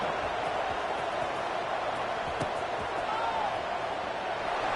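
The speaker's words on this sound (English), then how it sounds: "this crowd is buzzing after that last score" A football stadium crowd keeps up a dense, steady roar after a touchdown at a Wisconsin game, loud and continuous with no break throughout.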